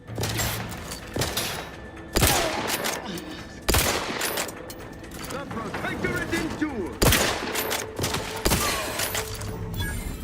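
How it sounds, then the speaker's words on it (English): Gunfire in the video game Outer Worlds 2, with repeated loud sharp shots and bursts spaced unevenly over a busy combat soundscape. "Where do you shoot me from"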